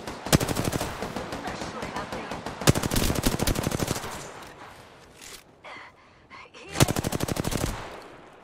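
Rapid automatic gunfire from a shooter video game comes in three loud, sharp bursts separated by quieter gaps with faint background sounds.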